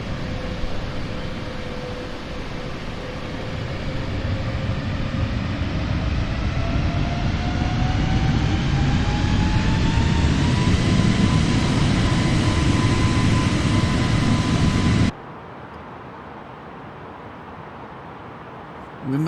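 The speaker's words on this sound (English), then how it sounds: "Those engines are whining." Aircraft engines in Microsoft Flight Simulator produce a loud continuous roar with a rising whine that climbs steadily in pitch, then cuts abruptly to a quieter rumble near the end.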